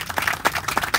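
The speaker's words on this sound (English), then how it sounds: "let's give a big round of applause to Susan" Applause from an audience at an outdoor groundbreaking ceremony for the District 4 recreation center, a short burst of scattered, fairly close hand claps with uneven rhythm.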